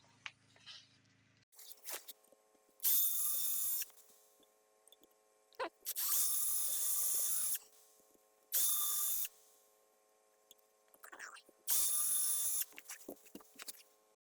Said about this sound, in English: tell you how deep to drill, and then you drill it.